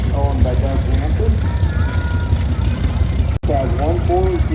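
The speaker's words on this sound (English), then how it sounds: "the 1910 International Harvester Type C 20 horsepower tractor, owned by Doug Hanson." A 1910 International Harvester Type C 20 horsepower tractor with one forward gear and a friction reverse runs with a loud, steady engine drone throughout, while someone talks over it.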